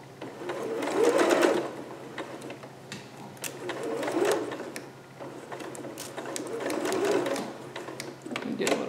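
A sewing machine runs in bursts, stitching a skirt seam for a Vogue 8280 pattern, swelling and easing several times at close range while a voice talks over it.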